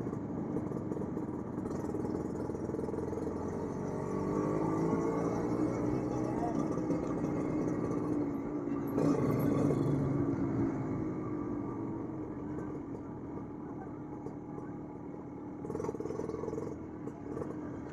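A Kawasaki Ninja RR motorcycle fitted with an Aitech Racing exhaust, its engine droning and revving steadily at middling throttle, close and continuous, rising briefly in a few places.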